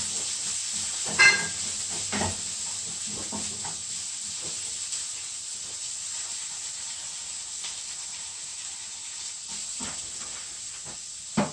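Finely grated ginger and chopped garlic sauté in a pan with a continuous soft hiss and sizzle. A few louder scrapes and stirring knocks break through now and then.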